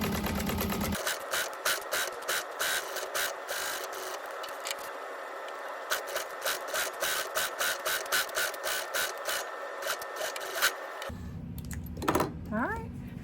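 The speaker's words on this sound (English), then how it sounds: "I'm gonna go then and sew down along both of these and get these sewn together" A sewing machine stitches handle straps together at a long stitch length, its rapid, steady mechanical clicking close and loud, with a short pause partway through and a brief stop near the end.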